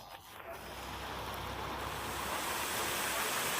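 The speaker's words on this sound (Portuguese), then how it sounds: "A fonte é composta por 20 canhões de água angulados com bicos de bronze com alcance de 50 metros, 56 jatos com alcance de 7 metros e 12 colunas de água" Large fountain jets in Paris, including angled bronze-nozzled water cannons, make a broad, steady rushing splash. It swells gradually and continues unbroken, heard from moderate distance.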